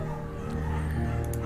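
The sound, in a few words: German Shepherd dog barking, from video game Firewatch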